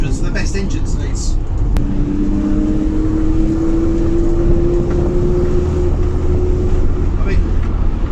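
A 1977 Morris Marina 1.3 Deluxe engine idles steadily with a low, even hum and a faint rising tone, heard alongside wind noise and someone talking.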